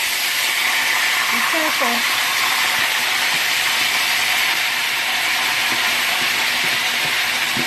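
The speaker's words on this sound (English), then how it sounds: "in about a 1/4 cup of oil, I'm going to go ahead and put the kidney in" Beef kidney drops into about a quarter cup of hot oil for Jamaican brown stew, setting off a loud, steady hiss of sizzling that persists throughout, with a brief spoken word near the start.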